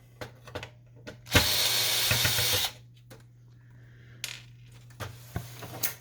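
A screw is backed out of the carriage of a Canon Pixma MX922 printer with a powered driver, giving a short whirring burst of about a second amid light clicks and handling knocks, close up.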